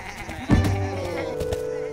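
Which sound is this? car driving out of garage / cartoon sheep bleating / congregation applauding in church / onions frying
cartoon sheep bleating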